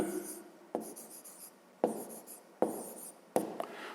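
A pen scratches across paper while a math exercise is worked out, in four short bursts of writing separated by brief pauses, each starting with a tap of the pen.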